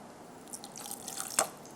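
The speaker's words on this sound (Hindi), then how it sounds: "थोड़ा सा मैं पानी भी एहतियातन शामिल कर देती हूँ" Water is added to egg kebab masala in a pan, heard as one soft drip or splash standing out briefly against a quiet, faint background.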